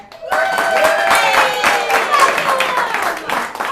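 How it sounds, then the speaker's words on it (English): A crowd applauds steadily for several seconds, clapping mixed with whoops and cheering voices, loud and continuous. "give us a round of applause if it's your first time here"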